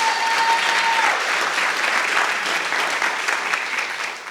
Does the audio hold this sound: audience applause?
yes